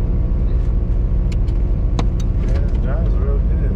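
A 1994 Chevy Camaro Z28 drives along with a loud, steady low engine rumble and road noise from inside the car, while people talk over it.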